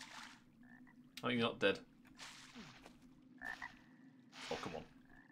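A frog in the video game Arx Fatalis croaks in several short, sharp bursts spaced over a few seconds, with someone briefly speaking between them over a low hum.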